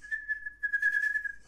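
A single person whistles a steady, sustained tone to call a pet hamster, the note holding clear and close with slight wavering, alone without talk.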